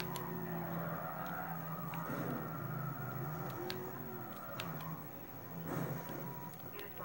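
A Cuda muscle car is driven on a dirt track in the racing game Need for Speed Carbon, its engine droning and shifting pitch continuously, with faint clicks and skidding noises over a steady background.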